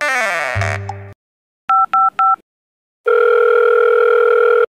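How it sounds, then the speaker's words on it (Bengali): A phone call being placed: after a brief bleating sound, three quick dialing beeps, a pause, then a loud, steady electronic line tone that holds to the end. "একটা কাজ করো, তুমি না তোমার বরকে ফোন করো"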